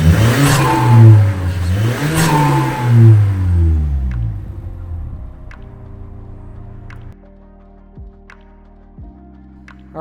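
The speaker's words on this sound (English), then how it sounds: "So go ahead and start the car." A 2.5-litre turbo Mazda 3 engine blips through several loud, wavering revs before settling to a quieter idle, punctuated by a few sharp clicks at regular intervals, close up with no talking.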